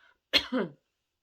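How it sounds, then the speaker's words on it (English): A single short, close cough, a harsh burst followed by a brief rougher tail, then silence. "Excuse me, I've got a cough now."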